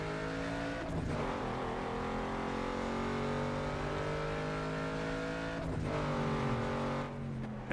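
A heavily modified race car in Need for Speed: Underground 2 driving hard, with a loud sustained engine whine holding steady pitch and two sharp gear-shift drops before climbing again.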